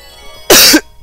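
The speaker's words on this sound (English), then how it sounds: "still coughing a little bit" A single short, harsh cough, close and loud, bursting out after a moment of near silence.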